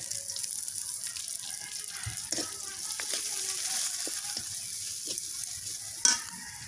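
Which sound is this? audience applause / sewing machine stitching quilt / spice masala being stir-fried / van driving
spice masala being stir-fried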